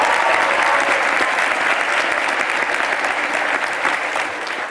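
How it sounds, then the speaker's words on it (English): Graduating class applauding at a commencement ceremony, a loud, dense, sustained roar of many hands clapping in a large venue, easing off slightly at the end. "Give yourselves a round of applause."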